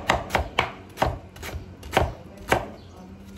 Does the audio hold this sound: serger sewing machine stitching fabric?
no